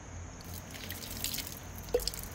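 Water drips quietly while leaves are washed, with soft trickling and one clear single drop near the end against a low, hushed room background.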